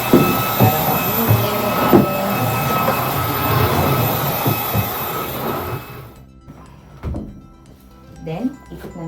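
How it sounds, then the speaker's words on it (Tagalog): A vacuum cleaner roars steadily while a bed area is cleaned during a budget room makeover in Japan, then cuts off at about six seconds, leaving quieter room sounds and a voice. "Vacuum muna tayo."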